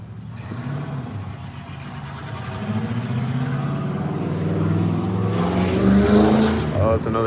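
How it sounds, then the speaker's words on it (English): A car accelerating away and driving past loudly on a street, its engine noise rising and swelling toward the end, with a voice talking over it. "This car is taking off next to me with an 86 on it."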